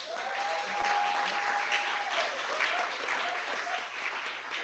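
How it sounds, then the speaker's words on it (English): Applause from a room of colleagues at a real estate team meeting, a steady dense clapping that holds evenly for several seconds with a faint tone lingering near the start. "Give them a round of applause"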